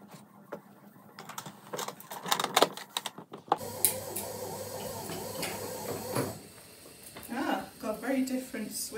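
An iRobot Braava 380 floor-mopping robot running with a dry mop gives a steady mechanical whir and sliding hum, with people talking over it and some clicks and handling noise at the start.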